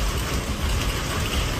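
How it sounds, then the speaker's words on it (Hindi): Heavy rain pours down steadily during a storm with hail, a dense continuous roar of drops hammering surfaces up close with no talking. "बिल्कुल नहीं पता था जल्दी इतनी तेज बारिश आ जाएगी, जबरदस्त बारिश शुरू होगी आंधी के साथ"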